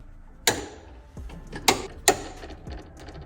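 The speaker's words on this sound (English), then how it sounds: "And you are gonna wanna torque those to 70 foot-pounds." A torque wrench tightens bolts on a 2024 Mustang, giving three sharp, close metallic clicks spaced about a second apart over faint mechanical handling noise.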